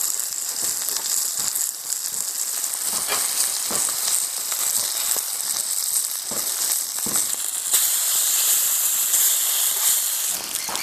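Rohu fish fries Kerala style in a covered pan, giving a steady, close crackling sizzle with scattered sharper pops throughout, no voices.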